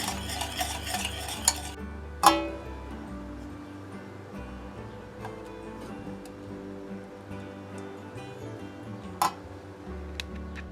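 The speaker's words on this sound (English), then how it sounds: "mixing this until it's getting thick, and the sugar will dissolve, but don't boil it" A sugar mixture for almond cake being stirred in a pot on the stove, soft scraping strokes with a few sharp clinks of the utensil against the rim, close and quiet.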